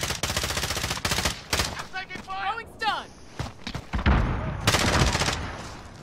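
Loud bursts of gunfire in a 2v2 multiplayer shooter, with rapid automatic fire and sharp single shots, some close and some farther off, broken up by a player talking.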